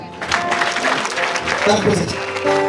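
Wedding guests clapping together at a Rwandan wedding reception, a steady wash of applause mixed with voices and what sounds like a PA system, a tone holding underneath, moderately loud throughout.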